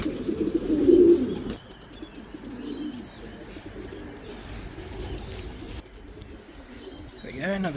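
Racing pigeons coo softly near a home loft after a 350 km race, with low throaty calls, a few chirps and faint wing flaps, fairly close and fading in and out.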